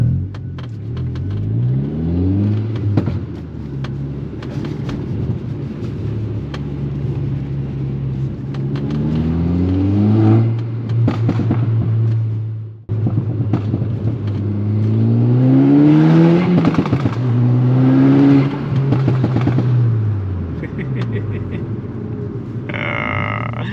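Stage 2 tuned MK6 Golf R engine revving hard while driving, heard from inside the car: loud rising and falling pulls through several gears, one brief cut around midway, then more strong acceleration with a faint voice at times.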